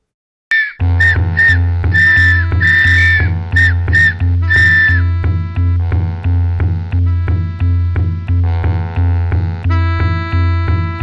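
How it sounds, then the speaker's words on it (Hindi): Whistle blown in an animated Hindi comedy cartoon: several loud, sharp whistle blasts near the start, followed by a steady droning tone with repeated rhythmic pulses that fill the rest. "अगर मुझ पर हमला किया तो मैं ये सीटी बजा दूंगा।"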